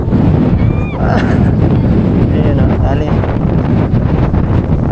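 Strong wind buffets the microphone at a tilapia fishing spot with a constant roaring rumble, while a voice speaks briefly over it.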